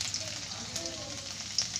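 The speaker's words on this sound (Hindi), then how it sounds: "जीरा हमारा चटक चुका है, इसमें कटा हुआ लहसुन ऐड कर देंगे" Soft, steady sizzle of chopped garlic frying in hot oil with crackled cumin seeds, close and fairly quiet, with faint crackles.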